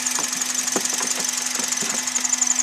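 Kia Soul engine idling in a garage bay, a steady close hum with a bright whine on top and faint ticking knocks running through.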